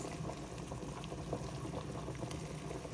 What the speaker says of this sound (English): It's boiling just a little bit.